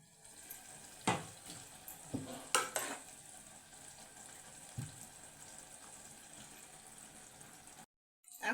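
Boiled carrots and beans tipped into a pan for a palya and stirred, with a few sharp clattering bursts of the drop and spoon over a steady, low sizzle, close by and without talk.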